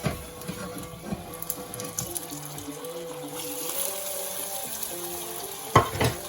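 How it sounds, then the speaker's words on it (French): Butter melting into hot caramel in a pan for tarte tatin, a soft sizzling bubble with light stirring, rising toward the end into a brief louder burst of spatter. "Vous rajoutez tout de suite votre beurre."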